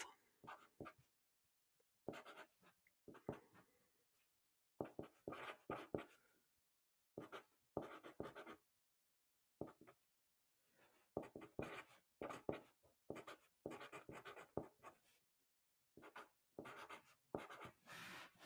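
Writing on a board while French verb forms are spelled out, faint scratchy marker or chalk strokes in short irregular bursts separated by silent gaps, heard alone and close.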